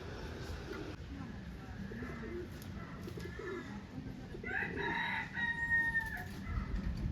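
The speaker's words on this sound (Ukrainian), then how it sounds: "Там ще пташечки якісь." Small birds chirping and calling outdoors in a park over a low background rumble, with a clearer trilling call rising toward the end.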